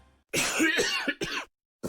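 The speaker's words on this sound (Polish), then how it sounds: "Kaszel mnie wykończy." A close, harsh cough in a few rough bursts, then a short pause and another cough starting at the end.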